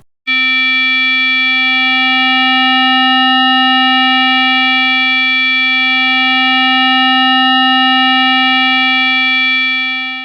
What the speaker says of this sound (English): Exploring floating point number ratios will give you sounds that change over